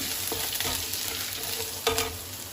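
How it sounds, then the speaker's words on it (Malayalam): Ingredients for Bangalore-style rava idli roast in a pan over a medium flame, giving a steady close sizzle with a couple of brief scraping stirs. "മീഡിയം ഫ്ലെയിമിലാണ് ഞാൻ ഇതെല്ലാം റോസ്റ്റാക്കി എടുക്കുന്നത്"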